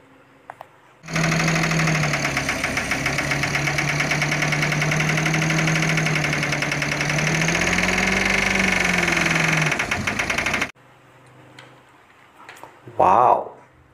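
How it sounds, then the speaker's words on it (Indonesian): A toy sand truck's small motor whirs with a steady buzzing drone for roughly ten seconds, loud and close, then stops, leaving quiet room noise and a brief sound afterward. "Ini mobil truk pasir."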